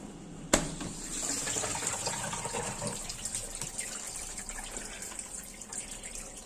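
Water at temperature running steadily during an eco-friendly laundry wash, a continuous close hiss after a brief knock at the start, with no talking.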